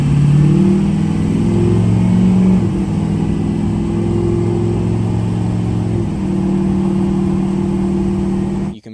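A 6.0L Powerstroke diesel truck engine running with an Eco Tune, loud and close, holding a steady rumbling idle with a brief rev dip around the middle before cutting off abruptly at the end.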